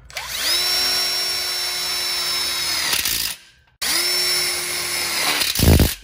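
A power drill drives screws into a connector plate on BBQ tubes, whining steadily for about three seconds, stopping briefly, then running again for another stretch before a rattling finish.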